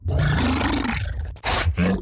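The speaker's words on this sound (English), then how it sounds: "an enormous creature that rushes at you making these sounds." A hulking Brute monster from the Mass Effect video game roars in two deep, guttural bursts separated by a brief pause, loud and close.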